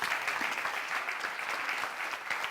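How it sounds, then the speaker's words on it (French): A television studio audience on a Burkina Faso entertainment show applauds as performers leave the stage, a dense, steady wash of clapping with no talk. "on va vous applaudir pendant que vous vous retirez"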